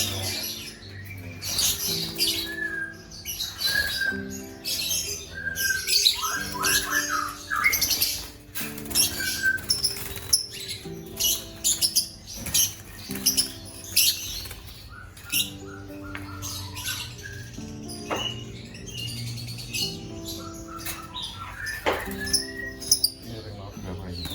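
Thousands of lovebirds at a breeding farm squawk and chirp densely and nonstop, with many overlapping harsh calls, some close and loud, and faint voices underneath.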